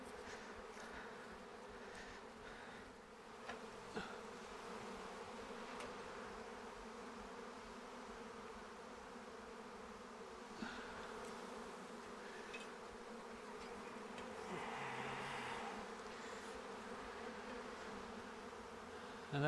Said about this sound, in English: I've already got a few bees landing on there.